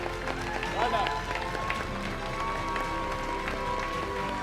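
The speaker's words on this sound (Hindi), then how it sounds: "एक बार जोरदार तालियां इनके लिए" Sustained applause from an audience at a mentoring seminar fills the room, a dense, even clatter of clapping throughout with no break.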